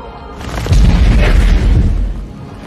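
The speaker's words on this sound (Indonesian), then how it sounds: "Dengan ledakan itu membuat William terkena dampaknya dan dia pingsan" A single loud, deep explosion booms and rumbles for about a second and a half, then fades.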